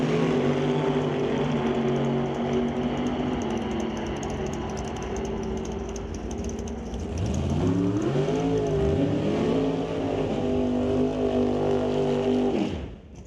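A drag racing car with a 648 cubic inch naturally aspirated engine roars at an NHRA event. The engine note is steady, loud and continuous, swells into rising and falling revs partway through, and cuts off at the end.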